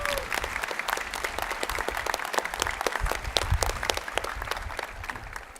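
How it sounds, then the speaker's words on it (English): A large crowd at a high school commencement applauds the teachers, with dense continuous clapping and distinct sharp claps throughout, steady and fairly loud, plus a low rumble of the venue underneath. "Now, a round of applause for the teachers first."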